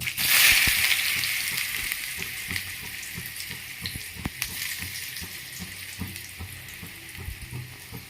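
Finely chopped onions hit hot ghee with a loud burst of sizzling that settles into a steady frying hiss with faint crackles and occasional stirring clicks, close and continuous with no talking.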